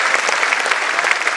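Loud, dense applause from the audience at a community annual awards program in Mumbai, a continuous roar of many hands clapping at once.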